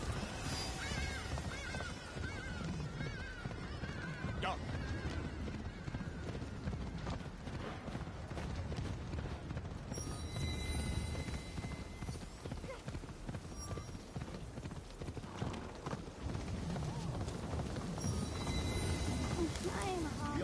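Horse riding in the video game Assassin's Creed, hooves clip-clopping in a continuous gallop throughout, with speech and game sounds layered over the hoofbeats.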